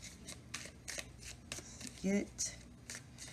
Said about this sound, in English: Let's pull some more clarifying cards here.